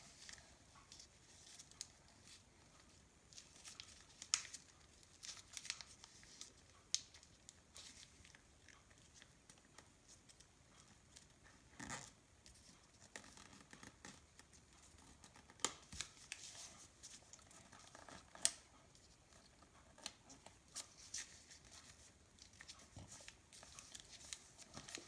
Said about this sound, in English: we want to fold this top edge of our rectangle down to the bottom edge of our paper